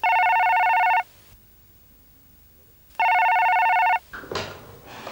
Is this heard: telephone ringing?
yes